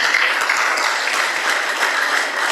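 A large audience at a scholarly church assembly applauds in a dense, sustained burst of many hands clapping, loud and even from start to finish, with no talk over it.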